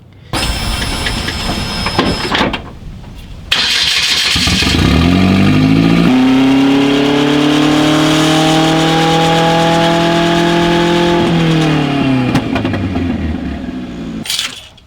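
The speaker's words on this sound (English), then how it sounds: "turn the car on and spin the axles" Car engine of a modified Genesis running up as its axles spin, with strongly rising and steady harmonic drivetrain whine and a rev climb, loud and close with no talking.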